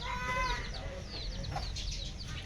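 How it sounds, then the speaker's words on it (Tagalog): A mother hen clucks at her nest of eggs on the ground, giving a run of close, fairly loud clucks and short calls that continue through the whole moment, with no talking. "Ito yung inahin."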